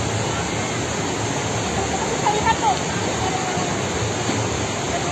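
Rushing water of the waterfall and river at Curug Niagara Cipamangkis in Jonggol, a dense steady roar heard close, with a person talking briefly over it.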